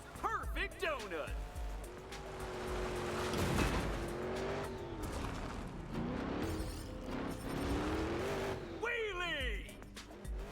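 A car in a video game spins a donut, its engine droning steadily with tire squeal and revving bursts at the start and end, while a voice talks over it throughout.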